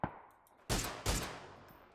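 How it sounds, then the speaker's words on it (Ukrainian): Two sharp, booming gunshots in the video game PUBG ring out in quick succession, each trailing off with a reverberant echo. "Що ти стріляєш? Хто це? Хто стріляв?"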